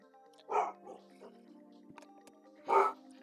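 Two brief, somewhat distant dog barks about two seconds apart, with a few faint thuds between them and a low hum underneath.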